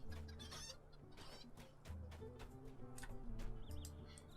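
Chickens and a rooster clucking in the Lord of the Rings Online video game, with steady layered clucks and fowl calls over a dense game soundscape, no talking.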